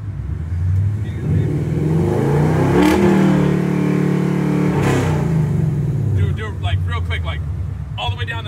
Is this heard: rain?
no